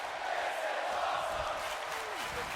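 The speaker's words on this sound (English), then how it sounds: "The crowd chanting that this is awesome." Wrestling arena crowd during a high-flying match, a dense sustained roar of many voices chanting together, loud and steady throughout with no single voice standing out.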